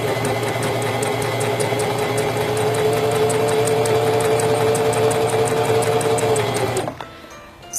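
A sewing machine runs steadily at an even pace for about seven seconds, stitching along a fabric seam, its rapid mechanical hum continuous and close before it stops abruptly near the end.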